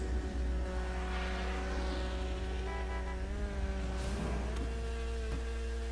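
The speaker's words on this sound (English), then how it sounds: "Love that exhaust" Exhaust note of an Issi Weeny Classic car, a Mini Cooper style in the GTA 5 video game, a steady buzzing engine drone heard alone, with pitch shifting slightly as it revs at a drag track.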